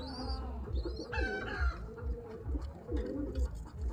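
Pigeons, a mother and her son among a loft of birds, make low cooing calls in a steady, repeating rhythm, with other fowl clucking and calling close by.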